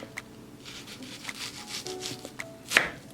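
A knife cuts onion and bell pepper into small pieces on a board, giving faint, close, irregular taps and soft rubbing scrapes, with one sharper click near the end.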